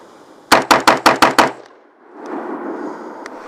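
An AR-15 pistol fires six rapid, evenly spaced gunshots at a small steel target, loud and close, followed by a fainter rumbling echo and then quiet.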